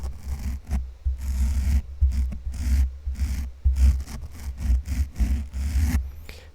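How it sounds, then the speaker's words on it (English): The back of a toothbrush is rubbed close to the microphone in an ASMR setting, making repeated soft, scratchy scraping strokes in an uneven rhythm with brief pauses between them. "The back of the toothbrush it sounds like this."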